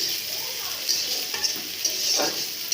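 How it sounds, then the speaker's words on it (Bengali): Onion and chili frying in hot oil in a wok, with a bright continuous sizzle and occasional stirring scrapes close by, no talking. "কড়াইটা গরম হয়ে তেলটা দিয়ে দেবো পেঁয়াজ মরিচ দিয়ে দিচ্ছি"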